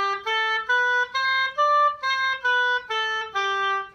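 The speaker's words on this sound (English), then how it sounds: "When you're doing anchor tonguing" Oboe played with anchor tonguing: a brief run of roughly eight tongued notes moving up then back down, reedy and bright, heard close and solo without talk.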